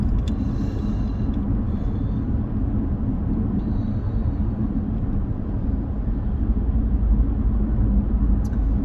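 Steady low road rumble and engine drone inside a moving car, continuous and even throughout with no talking.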